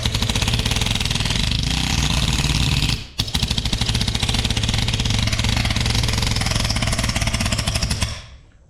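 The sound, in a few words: pneumatic mini planishing hammer running on air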